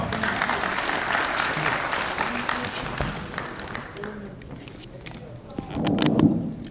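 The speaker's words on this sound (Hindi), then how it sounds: "आपकी भरपूर तालियों में तशरीफ लाते हैं" An audience at a physiotherapy association gathering applauds as a speaker is welcomed. The loud, dense clapping fades away midway, leaving scattered claps, and a voice begins speaking near the end.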